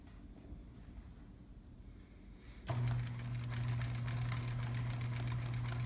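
A sewing machine stitches the side seam of a backpack, starting abruptly after a quiet lull and then running steadily and fairly close for the rest of the stretch, with a rapid fine rattle over a low motor hum.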